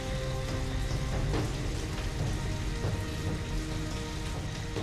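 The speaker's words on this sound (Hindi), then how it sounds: "बारिश भी बहुत तेज हो रही है" Heavy rain pours steadily, a dense, loud hiss of drops drumming on surfaces that continues without pause.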